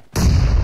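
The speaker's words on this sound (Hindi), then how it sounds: "मैं ग्रेनेड कर रहा हूँ।" A grenade goes off in PUBG with a sudden loud boom that rolls on as a sustained, close blast.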